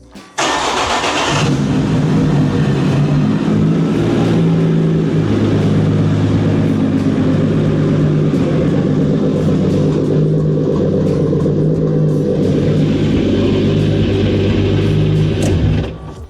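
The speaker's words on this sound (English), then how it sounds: "Hey Seryoga, go ahead and start car again." A BMW E46 M3 being prepped for drifting cranks and fires up, then runs loud and close at a rough, steady idle with rising revs for about fifteen seconds before cutting off.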